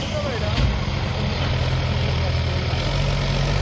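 Mahindra 585 DI tractor engine running at a steady, heavy low rumble throughout, close by, with faint voices in the background.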